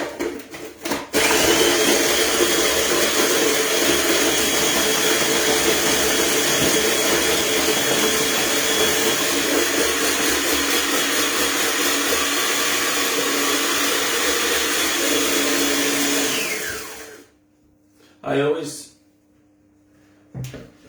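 An electric blender blitzes Biscoff biscuits, a loud continuous whirring grind held steady for about sixteen seconds before the motor winds down and stops, followed by a couple of brief clunks.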